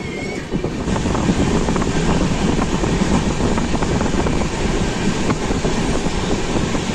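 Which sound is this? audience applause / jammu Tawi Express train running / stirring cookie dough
jammu Tawi Express train running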